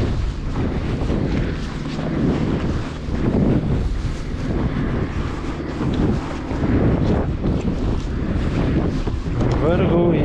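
Strong wind buffets the microphone aboard a small fishing boat at sea, a constant loud roar with water and hull noise beneath and no let-up.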